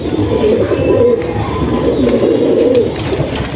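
Madras pigeons cooing close by in a steady, low, throaty murmur, several birds overlapping continuously with faint rustling.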